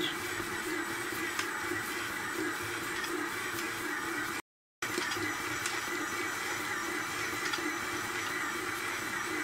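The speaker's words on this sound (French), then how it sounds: "On remet de la vitesse. Et on relaisse pétrir 2-3 minutes." Stand mixer kneading Altamura bread dough at higher speed, a steady loud whirring motor drone with faint rhythmic ticks, continuous apart from a brief cut of silence partway through.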